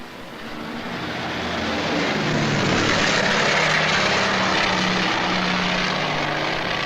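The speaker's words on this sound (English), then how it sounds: "An Argus is flown out from shore to join the search" An Argus patrol aircraft drones steadily overhead, its propeller engines building to a loud, sustained roar that holds through to the end.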